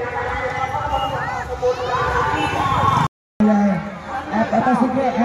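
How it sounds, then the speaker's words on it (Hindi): A dense crowd mills about at a village mela, with overlapping chatter, children's voices and general bustle close by, one brief dropout midway. "भीड़ देख सकते हैं"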